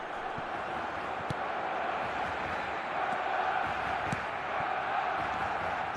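Stadium crowd noise from a football video game, a steady dense roar of spectators with faint swells and scattered sharper accents, continuous throughout.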